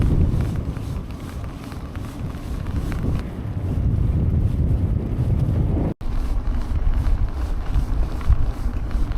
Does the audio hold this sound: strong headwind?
yes